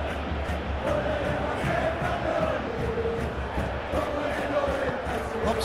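Crowd noise from a football video game swells in a steady roar of cheering, loud and continuous beneath faint commentary.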